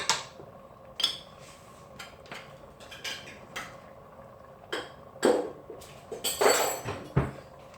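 A spoon stirs daal mash with garam masala in a cooking pot, giving irregular metallic clinks and scrapes against the pot, with a burst of louder scraping toward the end and no talking.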